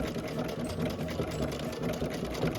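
A sewing machine runs a blanket stitch on a scrappy Dresden quilt block, giving a close, continuous motor whir with a fast needle chatter.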